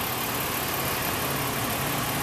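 A 2005 BMW X5 with a 3.0-liter engine idling, a steady even rumble with broad hiss, close and unbroken, no voices.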